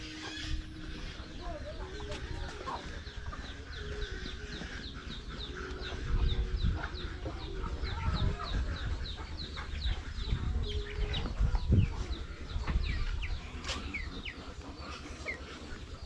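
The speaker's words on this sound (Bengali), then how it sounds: "মুরগি আছে এখানে দেশি মুরগি" Local free-range village chickens in a hillside settlement cluck on and off at moderate distance, with scattered soft calls over a low ambient background.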